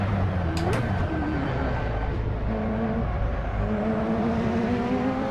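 A racing car engine in the video game Assetto Corsa drones and shifts pitch steadily, loud and continuous, with rising tones as it accelerates.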